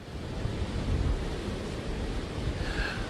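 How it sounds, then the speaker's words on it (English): Strong sustained wind from Hurricane Irma, a continuous heavy roar that buffets the microphone with low rumbling gusts, loud and unbroken throughout, with no voices. "We have something blocking us, and we're still getting this kind of wind."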